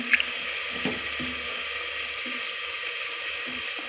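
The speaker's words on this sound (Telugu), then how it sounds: "ఈ పప్పులు అనేది మనం కడిగి వేసేసుకుందాం" Black-eyed peas being rinsed in a bowl of water for a curry, a steady soft watery wash like a running tap with a few faint clinks, no talking.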